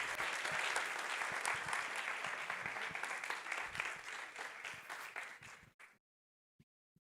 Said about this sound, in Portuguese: Parabéns. Salva de palmas.